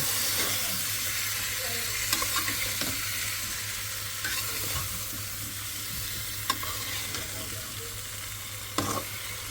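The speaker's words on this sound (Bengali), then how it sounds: "সুন্দর করে ঝাড়া দিয়ে ফেলেছিলাম মাছ আর লাউ একসাথে কষা নেব" Fish and bottle gourd frying together in a pan, a steady broad sizzle with occasional scraping stirs and clinks of a spatula, fairly close and continuous throughout.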